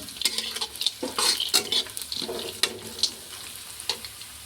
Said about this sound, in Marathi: आता याच्यात आता आपण टाकू आपले तळलेले शेंगदाणे. शेंगदाणे टाकले. आता त्याला पण आपण हलवू चांगले.